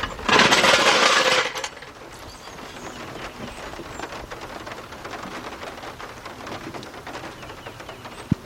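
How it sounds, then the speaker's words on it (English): Rain falls outdoors as a steady, broadband hiss, loud and close for the first second and a half, then settling into a quieter, even patter for the rest. "it's raining out here now"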